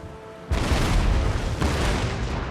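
A warship's cannon fires in Empire Total War. A sudden deep boom bursts in after a quiet moment, then a second heavy blast follows, loud and rumbling, with no talk.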